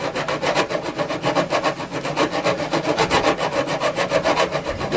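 Filing burrs off a Saiga 12 shotgun barrel, with rapid, even back-and-forth metal rasping strokes close by, steady and continuous throughout.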